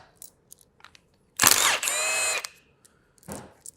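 Power tool removing bolts from the end plate of an electric motor from an MT03A: one short, close whirring burst with a rising whine, among faint clicks and handling noises in a quiet room.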